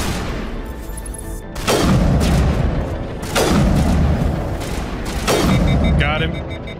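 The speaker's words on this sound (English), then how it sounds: "we're gonna pull out a sniper rifle here" Sniper rifle shots in a sci-fi video game with aliens: three heavy, booming reports spaced a couple of seconds apart, each with a long rumbling tail over constant background game noise.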